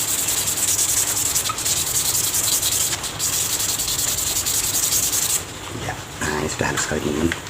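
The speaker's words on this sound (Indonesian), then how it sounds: "amplas nomor 1000 dengan cara yang seperti tadi, kita gosok terus." Steady, continuous rubbing of 1000-grit sandpaper on a fishing rod, close and loud, with the strokes growing more irregular and scratchy toward the end.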